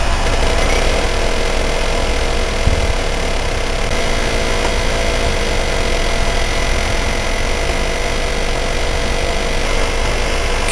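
A loud, steady engine drone fills the scene, with a water spark injector setup running while its frequencies are tuned. The dense rumble stays continuous and unchanging, with no voices.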